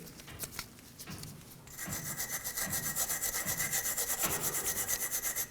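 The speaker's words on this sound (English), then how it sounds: "We'll clean this up using a wire brush." A wire brush scrubs the front sway bar link housing on a 1993-2001 Subaru Impreza, starting with a few light scrapes and then settling into steady, fast, rhythmic back-and-forth strokes that are close and fairly loud.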